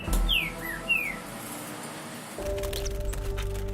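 Captive wild songbirds trafficked in Brazil chirp and whistle in short rising calls near the start, followed by a dimmer stretch and then louder, steadier background noise with faint tonal lines.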